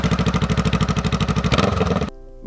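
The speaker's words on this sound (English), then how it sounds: "the 650 engine just doesn't sound all that unique." A 650 cruiser motorcycle engine running close by, a loud rhythmic pulsing throb that holds steady for about two seconds before cutting off abruptly into quiet.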